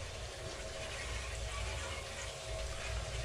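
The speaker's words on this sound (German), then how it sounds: "Wir haben gerade noch entdeckt, hier der Wasserhahn ist undicht." Water running steadily from a leaking household tap, a constant, fairly loud hiss and gurgle with no pauses and no voices over it.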